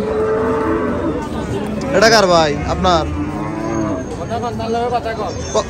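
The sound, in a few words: cattle mooing at a cattle market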